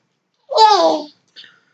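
A young girl babbles while playing in the background, one short sing-song burst of vocalizing followed by a brief faint second sound, close and clear against otherwise silent surroundings.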